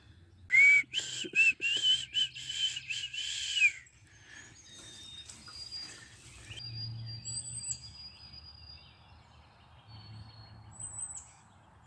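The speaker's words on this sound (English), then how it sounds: "I hear the oh Canada bird." A bird whistles its clear high song at Bristoe Station Battlefield, a few thin sustained notes in quiet outdoor air, with louder rustling and brief handling noise at the start.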